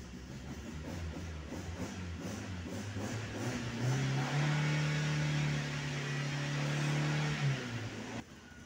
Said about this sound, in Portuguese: O motor tá frio ainda, né?